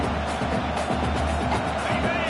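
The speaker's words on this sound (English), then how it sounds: "This crowd bringing the energy and noise early." Football stadium crowd giving a continuous dense roar and murmur of many voices, broad and unbroken throughout the stretch, with no distinct cheer peaks.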